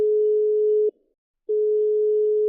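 A telephone line tone after dialing, two long steady beeps split by a short silence, clear and alone.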